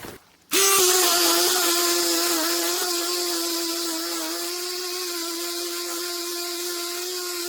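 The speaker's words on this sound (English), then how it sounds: "So I'm going to go ahead and just sand this down a little bit." Power sander running on a wood or composite siding hole repair, switching on abruptly after a moment of quiet, then a loud, steady whirring drone that continues alone without pause.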